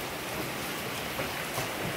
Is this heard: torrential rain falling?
yes